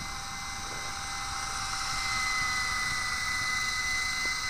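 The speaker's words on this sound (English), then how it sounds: "My little toy helicopter here." Silverlit V-150 RC toy helicopter in flight, a steady high-pitched electric motor and rotor whine that holds constant and close throughout, with no talking.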